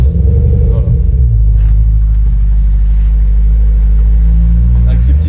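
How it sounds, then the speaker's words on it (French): A car engine idles and revs with a loud, steady low rumble while the car is reversing, continuous for several seconds with voices talking over it. "j'en recule la voiture"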